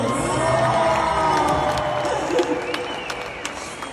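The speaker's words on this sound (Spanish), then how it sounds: "¡Aplaudan, cabrones!" Crowd at a comedy show in Omaha cheering, whooping and applauding loudly and steadily, with shouts rising from the audience and a voice talking over the noise.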